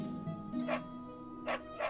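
A dog in a video game gives a few short, separate barks over a steady background of game music, fairly close and moderately loud.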